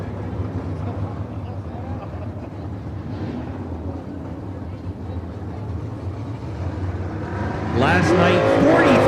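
Sprint cars roar around a dirt oval during a hot lap session, a continuous distant engine drone with wind buffeting the microphone, swelling louder near the end as cars pass closer.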